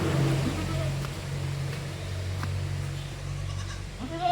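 A high-milk-yield goat bleats a few times, short and close, over a steady low droning hum.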